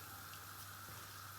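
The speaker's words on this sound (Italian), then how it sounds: "Adesso scoliamo" Water pours and gushes as cooked sedanini pasta is drained in a home kitchen, a steady rushing flow, faint and alone, over about a second and a half.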